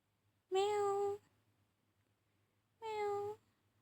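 A cat meows twice, two drawn-out tonal calls about two seconds apart, clear and fairly close against a quiet room hum.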